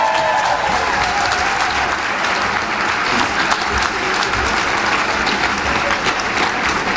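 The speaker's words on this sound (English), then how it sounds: "please put your hands together and then pull them apart and put them together again to create a sort of clapping sound" Audience applause fills an awards ceremony hall for the Drapers Awards, a steady, dense wash of many hands clapping loudly and continuously throughout, with no voices over it.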